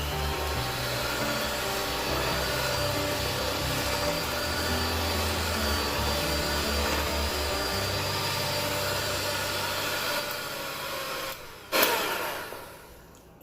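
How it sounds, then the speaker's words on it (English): A hand beater mixes semolina cake batter with a steady, loud electric whir that runs continuously. Near the end it briefly surges, then winds down and stops, close up, with no talk. "So I'm taking a hand beater and mix them all together."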